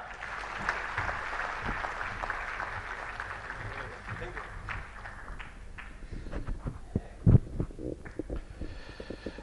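An audience claps warmly to welcome a speaker at a theatre event in Jamnagar; the applause fills the first few seconds, then thins as a voice begins speaking over scattered claps.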